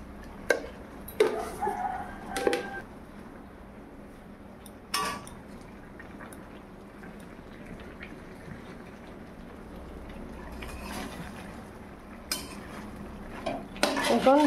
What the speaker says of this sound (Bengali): এখন ডাটাগুলো ভালো করে চিনি লবণ একসঙ্গে মিশিয়ে নাড়াচাড়া করে